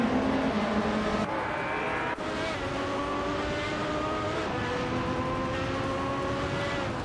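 Retro DTM touring cars, older BMWs, Mercedes and Opel Calibras, racing in a video game, their engines droning steadily with shifting harmonic tones as gears change, loud and continuous with a brief dip partway through.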